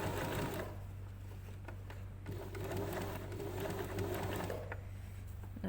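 A sewing machine hums continuously at a low level, stitching appliqué around a curve, with a slight change in pitch partway through as the work is guided.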